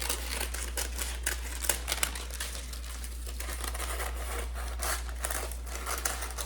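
Scissors snip quickly through parchment paper around a low-carb pizza circle, a close, rapid series of crisp cuts and crinkles with no talk.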